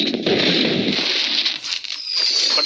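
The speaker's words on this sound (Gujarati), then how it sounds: "હે ફટાકડાનો અવાજ આવ્યો" Firecrackers burst in a dense, continuous crackle during a kite-flying festival, loud at first and then thinning slightly before picking up again, with no voices.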